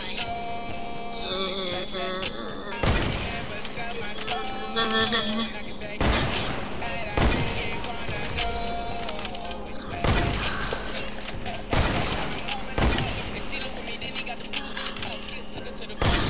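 Sharp gunshots in Fortnite crack out at irregular intervals, about eight or nine distinct bangs standing out over a busy bed of game sounds and mechanical clatter.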